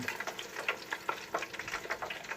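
Steady crackling sizzle of french fries frying in a deep fryer, with dense irregular pops throughout, fairly quiet and without voices.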